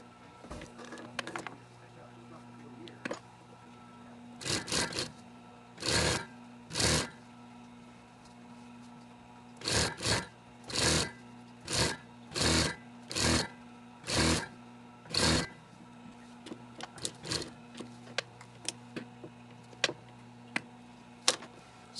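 A sewing machine stitching the hem of a prom dress in short, regular whirring bursts, with quiet handling noises between runs.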